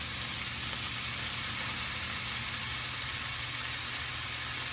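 Vegetables for chicken spring rolls sizzle in a hot pan, giving a loud, continuous hiss that fills the whole stretch without voices.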